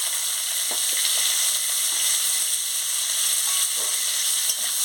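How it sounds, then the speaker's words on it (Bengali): Chopped onion and green chili fry in oil with panch phoron and dried red chili, a loud, hissing sizzle that holds steady throughout, with a few faint stirring taps. "পেঁয়াজটাকে ভালো করে ভেজে নিচ্ছি।"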